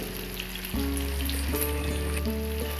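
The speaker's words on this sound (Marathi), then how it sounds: "हे जी तेल आहे ना ते वड्यांवर सुद्धा सोडायचं म्हणजे जी वड्यावरची लेअर असते ती सुद्धा तळली जाते" Barnyard millet vadas deep-fry in hot oil with a steady, loud, close sizzle and crackle, and sharp bursts of fresh spattering as oil is spooned over them.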